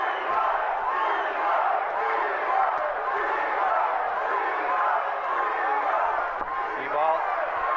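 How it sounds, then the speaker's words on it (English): A packed arena crowd chants the boxer Bivol's name during a WBA world title bout at 79 kg, a dense, sustained roar of many voices that stays loud and steady throughout with no gaps. "Crowd chanting Bivol."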